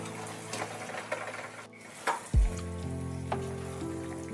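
Boiled potatoes dropped into a sizzling onion-ginger paste masala: steady frying hiss, a soft thud as the potatoes land, then continued crackle with a light utensil scrape.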